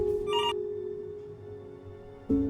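A telephone in the game Before Your Eyes rings in a short, bright burst early on, then a steady electronic hum holds until a second tone cuts in near the end.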